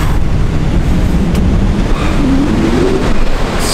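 Sea waves surge against the South Gare breakwater on a bleak, rainy, windy day, a steady broadband wash with wind buffeting the microphone throughout and no voices.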